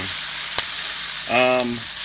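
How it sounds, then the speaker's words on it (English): Garlic sizzles steadily in a hot frying pan, a soft crackling hiss, with a brief clink and a short tonal whine partway through. "It's gonna sizzle away."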